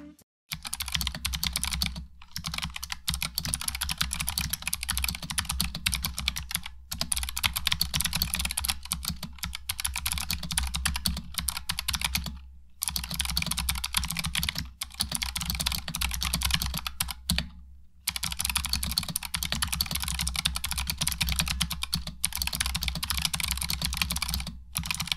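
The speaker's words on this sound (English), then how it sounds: "First, let's take a listen to the keyboard in its stock form." Typing on a stock Razer Huntsman Mini keyboard: continuous rapid key clacks in long bursts with short pauses between, close and prominent, with a low steady hum beneath.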